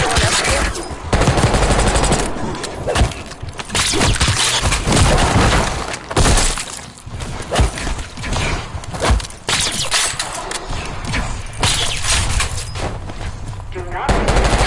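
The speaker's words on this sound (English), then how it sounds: "You hearing gunfire?" Rapid bursts of game gunfire crackle almost continuously, loud and dense, with voices talking underneath.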